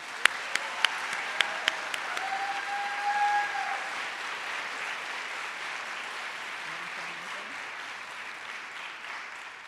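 An audience at a university physician associate studies awards ceremony applauds, a dense wash of clapping with some sharp claps near the start and occasional cheers, staying fairly steady and moderately loud throughout.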